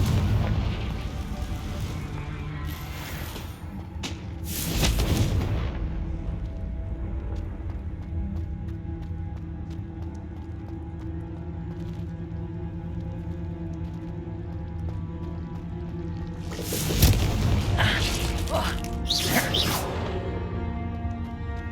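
Repeated Confringo fire spell explosions in Hogwarts Legacy, loud bursts near the start and again later with a double blast, over a constant rumbling battle background.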